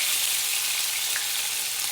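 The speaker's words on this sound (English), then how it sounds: "In English, this is frying cheese." Dominican frying cheese (queso de freír) sizzles and crackles in a hot pan, a steady bright hiss of frying with faint pops, heard up close and alone.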